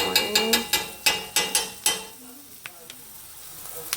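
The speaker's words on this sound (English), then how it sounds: "So I'm about to start adding onions. Onions going in." Onions hit a hot pan and sizzle, with a quick run of sharp scraping and clatter strokes for about two seconds before it settles to a softer crackle. Occasional clicks follow.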